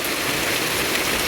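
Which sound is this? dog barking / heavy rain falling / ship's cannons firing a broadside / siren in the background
heavy rain falling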